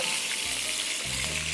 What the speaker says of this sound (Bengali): এখন তেলে পেঁয়াজ দিতে হবে।